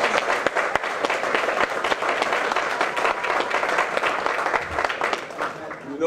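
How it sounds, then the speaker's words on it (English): An audience gives sustained applause at a community gathering, many hands clapping in a dense, even roar that holds steady for several seconds and tapers slightly at the end. "Please stand, ladies, for well-deserved applause"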